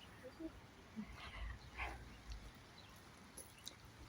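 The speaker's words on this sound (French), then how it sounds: "Tu dis bonjour aux gens, c'est pour ça que tu aboies?" Bella, a pet dog out in a small park, gives a few short barks amid soft outdoor background noise, with a voice speaking nearby.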